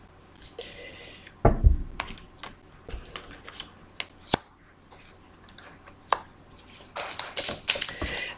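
Lenormand cards being shuffled and handled for a Valentine's Day reading, a series of sharp close taps and soft riffling clicks at an uneven pace, no talk.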